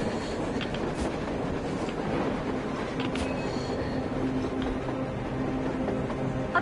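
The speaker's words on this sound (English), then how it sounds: "A train! A damn train on the surface!" A train rolls past on the surface in a post-apocalyptic video game, its wheels rumbling and squealing steadily at a distance, with faint metallic clicks and no voices.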